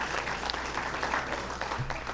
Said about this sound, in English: if we can give them a round of applause for hosting this